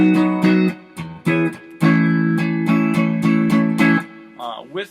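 A guitar plays a progression of chunky power chords in short rhythmic bursts and sustained strums, fairly close and clear, with a brief pause between phrases and a sliding note trailing off at the end.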